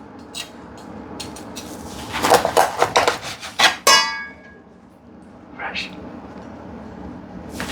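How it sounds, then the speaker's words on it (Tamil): Fish being cut for a South Indian fish curry, giving a series of close knife chops and clacks on a board with some dish clatter, bunched in the middle, over quiet room noise. "பார்த்தீங்க என் ஹஸ்பண்ட் அப்படி அழகாக ஃபிஷ் கட் பண்ணுறாரு."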